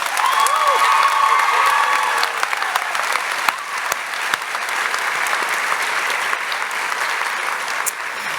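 Graduation ceremony crowd applauding and cheering for valedictorians, a sustained roar of clapping with scattered whoops, loud and continuous, a faint voice audible early on.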